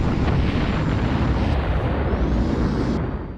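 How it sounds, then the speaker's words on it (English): Fighter craft blowing up in the space combat game Colony Wars: a loud, sustained, crackling explosion roar filling the whole clip, with an airy high hiss shifting partway through, old sci-fi style. "When you destroy a fighter craft, they make an explosion noise that wouldn't be out of place in some old sci-fi movie."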